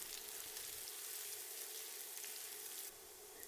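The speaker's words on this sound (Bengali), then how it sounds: "এখন নেড়ে নেড়ে পেঁয়াজ কিছুক্ষণ ভেজে নিব।" Sliced onions and green chillies fry in hot oil, giving a steady, close hiss of sizzling that holds through most of the moment and then drops slightly quieter near the end.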